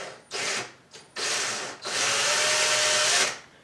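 A power drill bores through a kitchen cabinet door in three bursts, two short whirring starts and then a longer steady run, loud and close with no talking.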